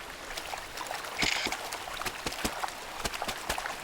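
Water splashes and trickles as a man bathes, with soft sloshing and a string of sharp small splashes in a steady, close rhythm and no talking.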